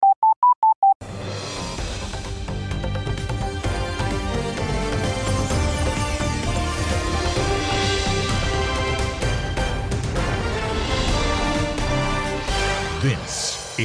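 A short telephone dial tone pulses briefly in an SLT home phone advertisement, then gives way to continuous loud music.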